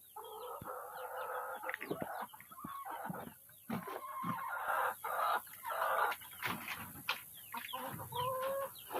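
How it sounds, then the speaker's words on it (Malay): Rhode Island White chickens cluck and squawk in a pen, with repeated nearby vocal bursts and some scuffling, and no talk in between. "Kita nak lepas ayam Rhode Island white ni."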